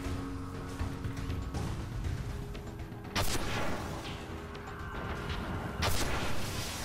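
Rocket launcher fire in the Destiny video game: two loud, sharp booms spaced a few seconds apart, each cutting above a steady bed of game noise and rumble.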